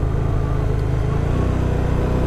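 A 2015 Aprilia Caponord 1200 motorcycle engine runs steadily up close, a loud continuous low rumble with no clear revving changes.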